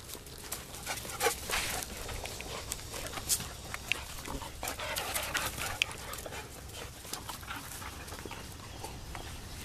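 A dog pants and shuffles around close by during an outdoor off-leash recall session, with quick irregular breaths and rustling movement over a quiet background.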